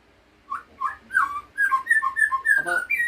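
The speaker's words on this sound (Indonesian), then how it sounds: "murai batu ini itu sangat bagus" A white-rumped shama (murai batu) sings a close, clear run of varied whistled notes in quick succession, loud and alone, for about three seconds.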